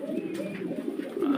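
Fancy pigeons cooing continuously at a pigeon farm, a close, low, throaty burble that rolls on without pause.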